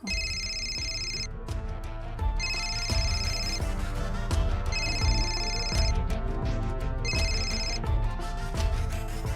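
A telephone rings in repeated bursts of bright electronic trills, loud and close, over steady background music, with no talk.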